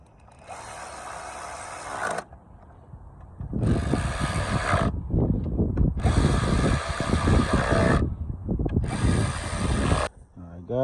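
A ratchet tightening spark plugs on a 2014 Hyundai Elantra engine, loud, close, fast clicking in four long bursts separated by short pauses.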